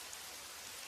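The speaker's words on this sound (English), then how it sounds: "Just the relentless drumming of the rain." Steady rain drums on a roof, a dense continuous patter of close drops with no pauses or other sounds, faint overall.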